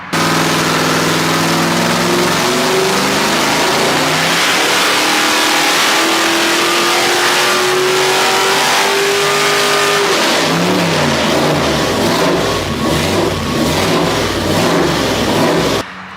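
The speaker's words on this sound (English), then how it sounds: "compare it against Bob McVeigh's recently finished off 454 big block Chevrolet aluminum headed truck motor" A 454 big block Chevrolet truck engine with aluminum heads roars on a dyno, climbing steadily under load through a long sustained pull, then dropping back and burbling roughly, very loud and close throughout.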